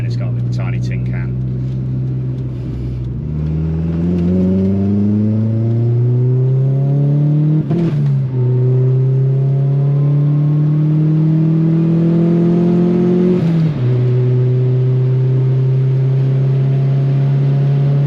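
Rover 220 Turbo coupe engine with a 2.5-inch turbo exhaust splitting to 3 inches into a small silencer, revving up and down repeatedly, loud and close, with rising and falling pitch sweeps.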